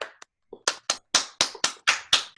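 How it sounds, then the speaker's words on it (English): A short burst of hand clapping over a video call, a few quick claps building into a brisk run of sharp, close claps, slightly clipped and compressed. "Jeff, go ahead and unmute everyone so you can give Meg a round of applause."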